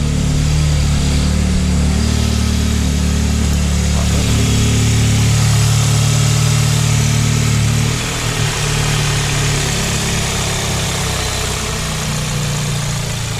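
An Audi S3 with factory exhaust and resonator delete idles close by with a deep, steady exhaust burble, its low rumble dipping slightly partway through before settling again.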